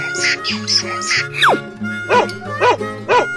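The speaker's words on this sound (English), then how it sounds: "Dog." A cartoon dog gives several short, bright barks over a cheerful musical backing in a children's animal song.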